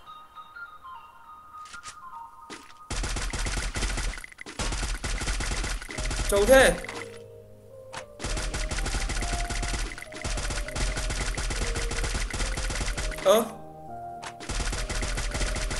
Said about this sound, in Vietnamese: chuyển sang bắn MP40 luôn